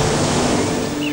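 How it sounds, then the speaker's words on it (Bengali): Ocean waves roaring along the sea, a dense, steady wash of surf noise that fills the whole stretch without a break, loud and close with no voices. "সমুদ্রের গর্জন"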